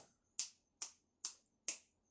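Four crisp finger snaps ring out close up at an even, steady rhythm against near silence.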